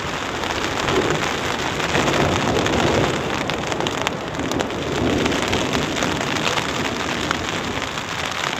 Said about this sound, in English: Interesting clouds and lightning and rain and wind.